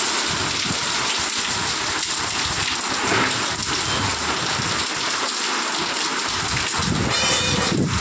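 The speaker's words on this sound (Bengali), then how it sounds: "ঝড়ো হাওয়া বইছে। হঠাৎ করে বৃষ্টিটা চলে এসছে" Sudden midday rain lashing down with gusty, stormy wind, a steady dense roar of rainfall and blustery noise that stays loud and unbroken throughout, no voices.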